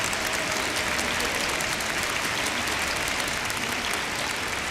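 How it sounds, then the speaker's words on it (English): A large crowd at a peace festival gives a warm round of applause, a thick, even wash of clapping that stays loud and unbroken throughout, with no talking. "Let us give a warm round of applause to welcome one another."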